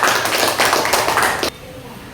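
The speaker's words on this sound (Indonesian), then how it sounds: "Beri tepuk tangan." Classroom students clap in a short, lively burst after a group presentation, the clapping ringing out close for about a second and a half before stopping abruptly into quiet room tone.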